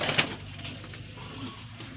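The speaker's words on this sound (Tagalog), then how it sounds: "Mga kalapati nila kabukid." Low, murmuring coos from pigeons, continuous and soft, with a brief sharper sound near the start over faint outdoor background.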